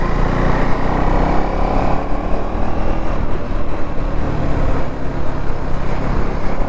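A KTM Duke 390 motorcycle rides along a curvy road behind an IT park, its engine droning loud and close under constant wind rush, pitch rising and falling slightly through the bends.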